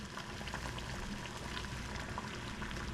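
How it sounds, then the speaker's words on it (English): A pot of water at a full rolling boil, heated to soften pipe for crimping: a steady, dense bubbling and hiss that stays even and close throughout, with no voices. "bring some water to a boil."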